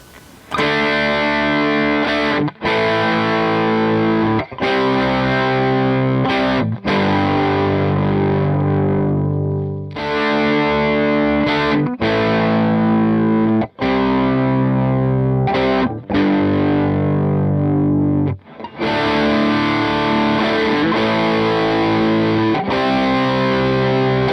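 Heavily distorted electric guitar riffing through an amp's effects return and a regular cabinet, loud and continuous, with chugging chords and brief gaps between phrases.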